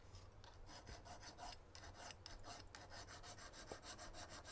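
Watch case lugs being cleaned up with a hand file, quick rhythmic rasping strokes repeating steadily, close but faint in a quiet room.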